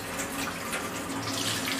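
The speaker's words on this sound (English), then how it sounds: "Just put some hot water on top of the cup." Hot water pours steadily from a tap over an upturned cup in a kitchen, a continuous close splashing rush without pauses.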